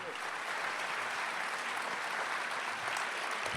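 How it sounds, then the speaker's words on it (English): An audience at a film festival awards night claps continuously, a dense steady wash of applause filling the room without break. "you can give him a round of applause here"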